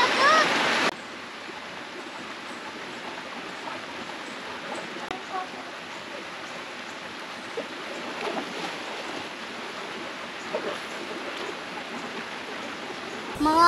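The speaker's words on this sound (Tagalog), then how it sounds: "Dito sa napakagandang Lugnasan Spring." Water flows steadily at Lugnason spring in Siquijor, a continuous soft rushing wash broken by small splashes, with a brief louder burst at the very start and end.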